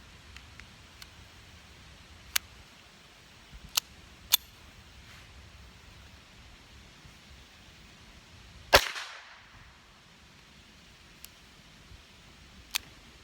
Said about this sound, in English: Gonna move on now to the Beretta Model 71 with the CCI Quiet 22.